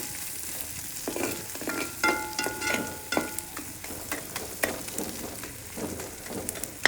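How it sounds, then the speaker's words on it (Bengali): Whole spices (cinnamon, cardamom, bay leaf) fry in a pan for a quail dish, a steady close sizzle broken by irregular scraping stirs and spoon knocks, with no talk. "2 থেকে 3 মিনিট ভেজে নেব"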